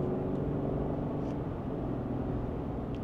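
A Lexus GX 550 LUXURY+, a body-on-frame off-road SUV, accelerating in its custom drive mode: a steady, subdued low engine and road rumble from inside the cabin, fairly quiet and even throughout, with no talking.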